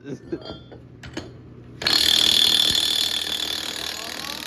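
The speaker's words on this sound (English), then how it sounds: "Now see if the snap-on can get it off." A Snap-on power tool removing a part from a race car being set up for Limited 28s racing: a few sharp clicks and knocks, then a loud, sustained high whirring burst that continues to the end.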